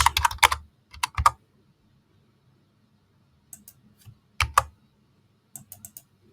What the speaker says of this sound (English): So I can type in whatever name I want.